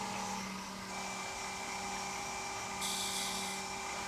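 A wood lathe spins just over 2000 RPM while a bowl gouge turns a wooden medieval chalice, giving a steady whine with faint hiss and a brief louder burst of cutting noise near the end, no voices.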